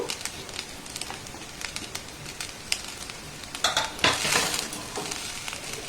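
Fried vegetables tipped into fried rice and stirred in a hot pan, giving close sizzling with irregular scraping and clatter and a louder burst of frying partway through.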